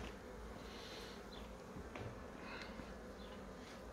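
Soft, steady buzzing of many honeybees clustered together in an urban hive, a dense low hum with occasional individual bees whining past nearby.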